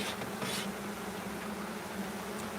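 A faint, steady hum of honey bees buzzing around an open beehive during hive maintenance, a soft continuous drone with no voices.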